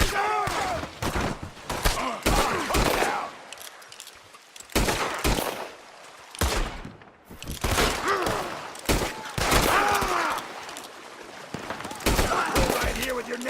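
Gatling gun fire in Red Dead Redemption 2, with long loud bursts of rapid shots broken by short pauses and shouting voices mixed in.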